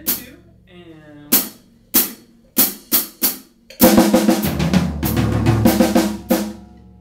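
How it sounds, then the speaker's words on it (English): Acoustic drum kit played from snare to floor tom to second tom and back: several spaced, loud single hits first, then a dense, rapid burst of close drum strokes with ringing low toms. "We're going to shift it over. So snare drum to floor tom"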